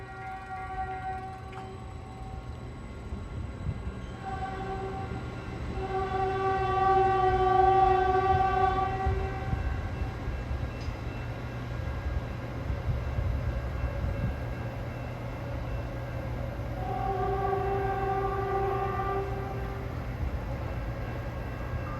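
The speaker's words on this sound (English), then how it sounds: "there goes Caltrain 147 to 4th and King Street station in San Francisco, making all stops" Caltrain 147 departs Menlo Park station bound for 4th and King in San Francisco, its horn sounding in long sustained blasts over the low steady rumble of the train, with a second horn sequence later, no talking.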